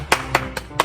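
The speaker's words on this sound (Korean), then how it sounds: "하나님께 영광의 박수 드리겠습니다" Congregation clapping at a children's community church worship service: four distinct, evenly spaced claps in unison, each a sharp close burst separated by short quiet gaps, with no talking over them.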